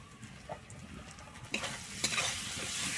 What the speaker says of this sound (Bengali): আমি টমেটোটা কিন্তু খুব ভালোভাবে এখানে কষিয়ে নেব।